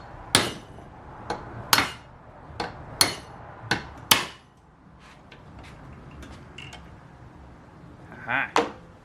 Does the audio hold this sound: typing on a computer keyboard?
no